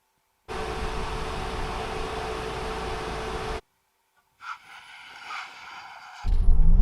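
A Tesla Model X Plaid electric SUV launches hard from a standstill. A loud, steady rush of road and wind noise with motor whine lasts about three seconds, then gives way to a quieter tonal hum and a renewed roar at the end.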